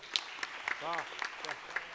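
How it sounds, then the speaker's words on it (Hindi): A small audience gives musicians scattered, fairly faint claps, a few separate sharp hand strikes rather than a full ovation. A voice speaks briefly underneath. "एक बार म्यूजिशियंस के लिए भी जोरदार ताली हो जाए"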